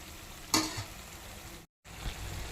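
Mutton goes into a curry gravy and fries: a soft steady sizzle with a sudden louder splash as the meat lands, then quiet bubbling after a brief dropout.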